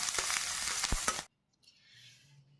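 Green chillies dropped into hot oil alongside sliced onions give a loud, dense sizzle for about a second, then it cuts off abruptly and leaves a quieter, softer frying hiss.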